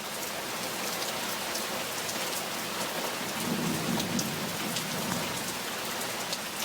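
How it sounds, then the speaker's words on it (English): Steady rain pouring down during a tornado in the UK, with a low rumble of thunder rolling through the middle, no voices. "Instead, I hear more like a thunder."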